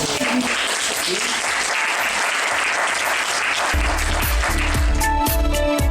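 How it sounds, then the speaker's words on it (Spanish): Studio audience applauding young engineers, a loud continuous roar of clapping that runs throughout, with music entering partway through and carrying on beneath the applause. "yo pido un aplauso para estos jóvenes"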